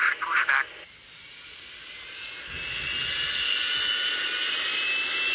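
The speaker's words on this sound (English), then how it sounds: "Now a Delta 757 is backing away." A Delta Boeing 757 jet airliner pushes back from the gate, its engine whine rising into a loud, steady roar after a brief burst of nearby chatter.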